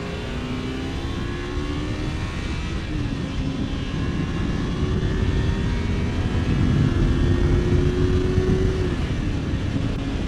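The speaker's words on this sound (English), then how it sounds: "It's not a loud engine, but you do hear it when it gets up there in those higher revs" A 2006 Kawasaki Ninja 250 motorcycle engine pulls hard at high revs on the road, a steady, close, rasping drone with rising whine over heavy wind rumble throughout.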